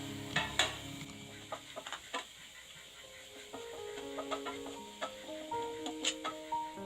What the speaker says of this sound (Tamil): இஞ்சியை சின்னதா கட் பண்ணி சேர்த்துக்கிறதுனால இஞ்சி சீக்கிரமாவே வதங்கிரும்